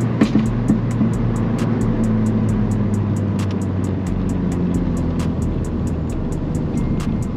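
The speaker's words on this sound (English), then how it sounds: "the blow-off valve sounds a little bit louder" A Ford Fiesta ST with a stage 2 intercooler setup drones steadily from inside the cabin while driving, with a rapid, regular ticking pattern of short clicks or pops running over the engine hum.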